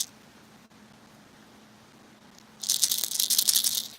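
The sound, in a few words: rattle trap fishing lure rattling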